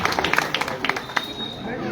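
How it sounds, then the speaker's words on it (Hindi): A rally crowd welcomes Pappan with scattered, fairly faint handclaps that come in uneven bursts, mixed with background voices. "एक बार जोरदार तालियों के साथ पप्पन जी का भी स्वागत कर दीजिए।"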